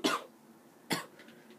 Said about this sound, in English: oh, I've been coughing all day today.